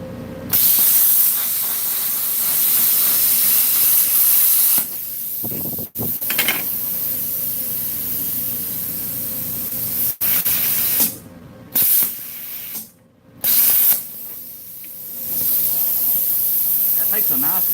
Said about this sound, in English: That makes a nice cut on stainless.